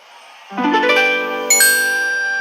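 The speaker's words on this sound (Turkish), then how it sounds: "O nasıl bildirim sesi ya" A phone notification chime rings out, a bright layered tone starting about half a second in, followed by a second higher ding that sustains and rings on to the end, alone without talk.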